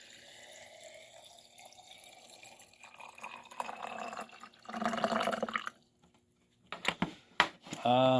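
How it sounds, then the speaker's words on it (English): Water runs from a tap into a container, the splashing swelling then stopping briefly before resuming, with some clunks near the end. "And then fill it up with water."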